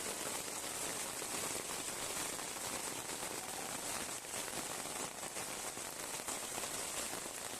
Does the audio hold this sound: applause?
no